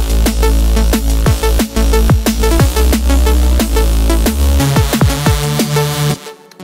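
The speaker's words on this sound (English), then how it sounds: "But with the Fuzz Reese, where we replaced with the noise sub, it sounds like this." A Fuzz Reese bass from the Phase Plant synth, layered with a noise sub, plays loud and upfront: a gritty, sizzling low drone with a steady run of pitch-bending notes that stops abruptly near the end.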